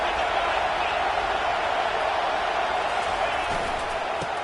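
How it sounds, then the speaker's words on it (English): A football stadium crowd at a college game roars steadily and loudly, a dense wash of cheering that holds for several seconds without any clear speech. "this crowd is turning it up a notch"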